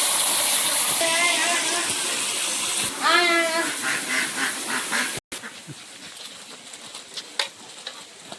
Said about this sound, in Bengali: কিন্তু হাঁস ডাকছে।